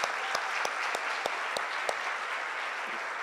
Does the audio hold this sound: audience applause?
yes